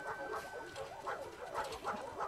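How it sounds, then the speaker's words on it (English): Several dogs bark and yelp in a kennel area of the video game The Last of Us Part 2, the calls arriving in fairly steady bursts at moderate distance over a constant ambient background. "here's where they have all their dogs"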